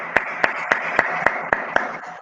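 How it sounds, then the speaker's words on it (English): Seven evenly spaced claps ring out in a steady rhythm to cheer a child during an online class, sharp and close against a faint background hum. "Clapping for Shafi."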